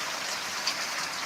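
Steady rain pours during a sudden downpour in a Tamil village, a dense, even hiss of drops hitting surfaces, close and continuous throughout with no voices.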